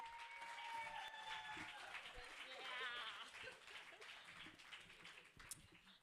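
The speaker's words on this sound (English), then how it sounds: "So please give her a round of applause as she makes her way to the stage." Audience applause at a festival welcoming ceremony as a speaker walks to the stage, a soft spread of clapping from a hall crowd beneath a voice talking over it.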